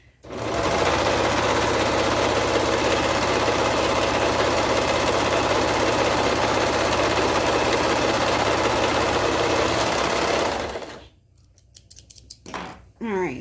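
A serger runs at high speed while stitching overalls fabric, producing a loud, steady whirring drone for about ten seconds before it abruptly stops, leaving a few faint clicks and handling noises.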